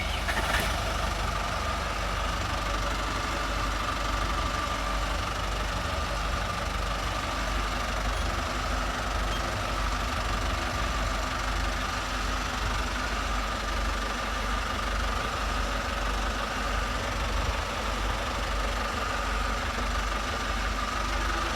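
A 1990 Princess 286 Riviera motorboat's engine, re-engined in 2002, idling steadily with a low, even rumble up close and no voices.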